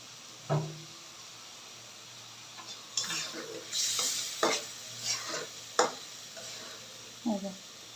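Prawn curry masala frying in a pan, stirred in a series of separate scraping strokes over a soft, constant sizzle, fairly close, with short gaps between stirs.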